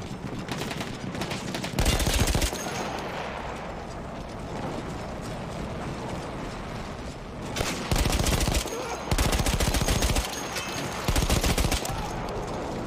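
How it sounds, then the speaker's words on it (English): Benet-Mercié machine gun firing in the video game Battlefield 1, several loud rapid bursts of automatic fire between stretches of dense battle noise and mechanical rattling, close and harsh. "Are you hip firing a B'nai Mercy?"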